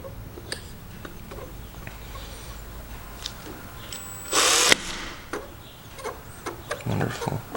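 A brief electric drill burst on a 1972 Homelite T10 garden tractor steering part, loud and near for under a second, set among quiet shop clatter and small taps.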